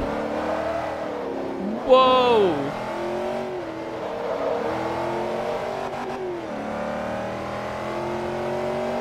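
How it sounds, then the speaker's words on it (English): Race car engine in the racing game Forza Motorsport 3 drones steadily at high revs, rising and falling through gear changes, loud throughout, with a person briefly exclaiming over it. "Car sound might be a little loud."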